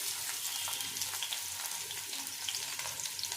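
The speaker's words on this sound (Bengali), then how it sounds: "এখন তেলটা গরম হয়ে গেছে। এবারে প্রথমেই দিয়ে দিচ্ছি রসুন কুচি" Chopped garlic sizzles in hot oil in a kadai, a steady bright crackling hiss that runs evenly throughout with small pops, heard alone.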